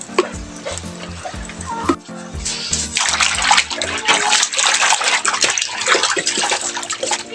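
Cleaned tikong fish being washed in water, with steady splashing and sloshing close by throughout.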